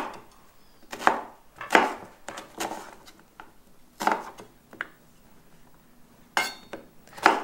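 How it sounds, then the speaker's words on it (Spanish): A knife chops a small onion into large cubes on a cutting board, with sharp irregular thunks landing roughly every half second to second, close and clear, no voices. "Ahora vamos a picar la cebolla, la vamos a hacer en unos cubos grandes."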